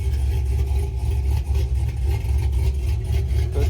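A car engine with a loud, unmuffled exhaust and no resonator runs with a deep, choppy lumpy rumble, steady and close, with slight rises in intensity.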